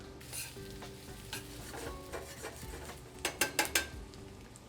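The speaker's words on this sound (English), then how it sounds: "start with a little bit of butter. Get that going. Then I'm gonna add in some shallots" Shallots sizzling in melted butter in a pan, a quiet steady frying hiss with a few sharp scrapes and taps of a utensil stirring against the pan near the end.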